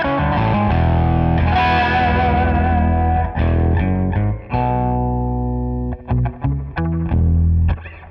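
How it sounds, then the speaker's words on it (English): Electric guitar chords ringing out through a splashy '63-style spring reverb, with lingering tails and some grit, followed by shorter picked notes. "I switched to 63 spring reverb"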